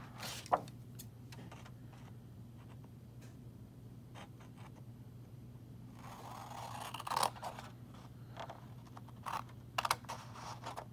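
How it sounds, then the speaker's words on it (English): Scissors cutting paper for a tunnel book craft, quiet scattered snips and scrapes against a faint steady hum, with a few sharper crisp cuts near the end. "I know now that this is excess, so I'm going to cut this off."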